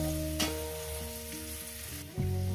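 Rohu fish frying in a pan over a low gas flame, giving a steady close sizzle with a sustained low hum beneath and a brief clatter near the end.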